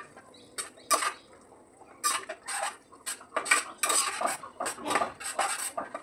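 Spices for palak paneer being stirred in a pan, with a spoon repeatedly scraping and clinking against the metal in uneven bursts, close and fairly loud with no talking.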